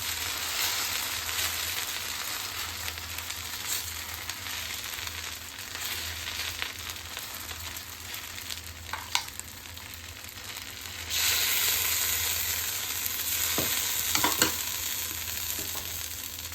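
A masala dosa sizzles steadily on a hot pan, a continuous crackling fry with brief scraping and stirring touches, loud and close throughout with no talking.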